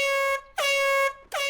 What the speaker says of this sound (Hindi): पर मैंने नया हॉर्न लगवा दिया।